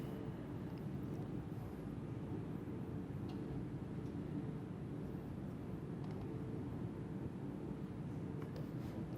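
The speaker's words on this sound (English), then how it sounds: "And this is landing at Delhi Airport" Steady, low roar of an airplane landing at New Delhi Airport, a constant engine and cabin rumble heard from inside with no breaks or talk.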